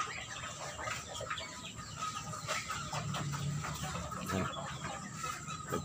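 Chickens cluck busily at close range as they crowd in at feeding time alongside ducks, a steady, overlapping chatter of short calls.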